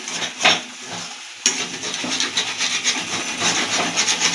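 A spoon scrapes and stirs a potato mixture in a pan where the bottom is starting to stick, making repeated close rubbing strokes over a soft sizzle after a sharp knock.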